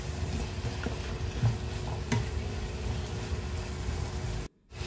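Beef and squash sautéing in a pan for a simple kalabasa and kangkong dish, a steady close sizzle with soft stirring scrapes throughout, cutting off abruptly near the end.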